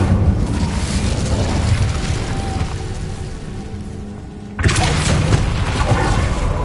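Incendio fire spell cast in the Hogwarts Legacy video game, a deep rumbling burst that fades off and then a second loud whooshing blast erupts partway through, both close and booming.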